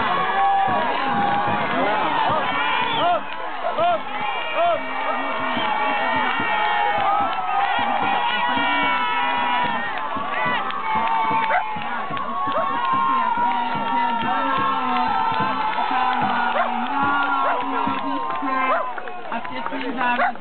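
Crowd noise at the mixed-category final of a dragon boat race: dense, continuous cheering and shouting from many people throughout, loud and close, with voices mixed into the din.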